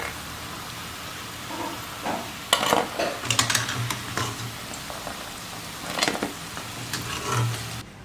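Gram flour bondas fry in hot oil, a soft continuous sizzle broken by bursts of crackling and metallic scrapes and clinks of a ladle against the pan.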